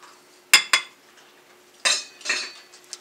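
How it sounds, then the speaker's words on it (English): Spices for a rib rub, including cumin and half a cup of brown sugar, stirred together in a bowl: two sharp utensil clinks followed by two softer scraping swishes, close and alone. "So we're going to mix all those together."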